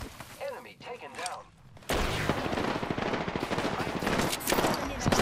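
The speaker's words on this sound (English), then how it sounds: "More people shooting, going to the left, so watch yourself." Rapid automatic gunfire from several players in an online shooter game bursts in after a quieter opening, loud sustained volleys of close shots crackling continuously, with a voice talking faintly beforehand.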